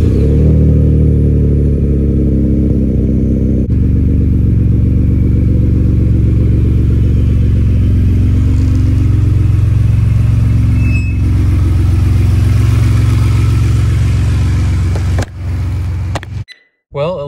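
A 2012 Ford F-150 with the EcoBoost engine, just fitted with high-performance coils, fires up and settles into a steady, loud, close idle that runs for about fifteen seconds before the sound drops away.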